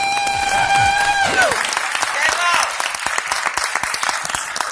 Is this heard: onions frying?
no